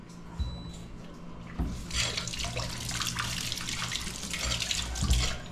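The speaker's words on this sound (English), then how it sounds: "Rinse it out." Snails rinsed under a running kitchen tap for Guyanese crekete curry, a steady stream of water splashing into a sink with a few clunks of shells and handling, close and moderately loud, no talking.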